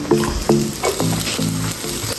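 Onions hitting hot oil in a wok for shrimp and chicken fried rice, a loud steady sizzle that swells in short bursts as the pan is worked, close and continuous.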